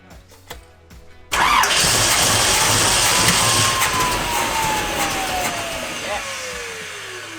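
After a few sputtering turns, an engine cranks and catches with a sudden loud roar, then settles into a steady running drone that slowly eases off.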